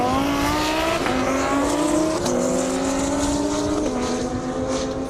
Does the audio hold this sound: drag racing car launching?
yes